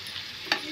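Bottle gourd pieces stirred in a pan with turmeric and salt: a soft, continuous sizzle with one brief scraping stir, no voices.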